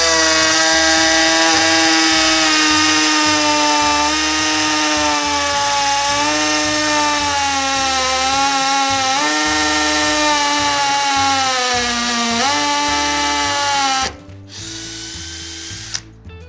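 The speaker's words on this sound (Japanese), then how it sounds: "振動ドリルの機能がついてる機種もありますんでですね、コンクリートに穴を開けてみたいと思います" A Hikoki DV12DD driver drill in hammer mode bores into concrete, giving a loud, continuous buzzing hammer rattle with a wavering pitch that dips several times as it bites, then stops near the end, leaving a softer brief run.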